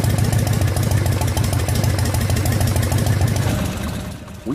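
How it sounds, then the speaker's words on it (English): A fully warmed-up car engine idles steadily and loudly close by, a rapid even chugging pulse that holds for several seconds and then drops off abruptly near the end. "With the engine fully warmed up and idling"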